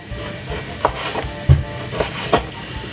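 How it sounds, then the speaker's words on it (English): A lemon being peeled for a cucumber diet drink gives off soft scraping and rubbing strokes with a few sharper knocks in an uneven rhythm, close and fairly quiet, with no talking. "you're gonna remove the skin from the lemon."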